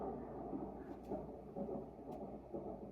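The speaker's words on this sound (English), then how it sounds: "Alexa, play Tropical Thunderstorm Sounds." Tropical thunderstorm sounds play through a smart speaker, a steady low rumble of thunder with a rain-like wash that swells and eases in slow waves, with no talking.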